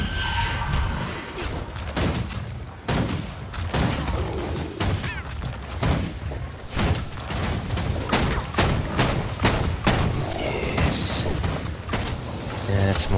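Rifle fire in Guild Wars 2 on PC rings out as repeated sharp, loud shots at an uneven rhythm over about thirteen seconds, mixed with crashes and thuds of combat, including mortar fire, and game noise.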